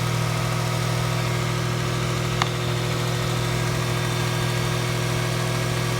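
A car engine idles steadily with a constant low hum, smooth and even, heard close up without voices, with a single faint click partway through.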